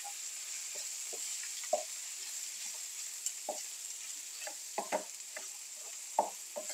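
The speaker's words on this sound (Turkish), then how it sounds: "Birkaç dakika daha hep beraber kavurunca kavurma işlemimiz bitiyor" Chopped parsley and dill sauté in a pan with a soft, steady sizzle, punctuated by scattered clicks and scrapes of stirring, fairly quiet and close, with no talking.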